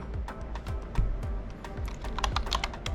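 Steady typing on an Anitech P505 wireless keyboard, close-up, with quick irregular key clicks and a few heavier keystrokes running throughout, no voices.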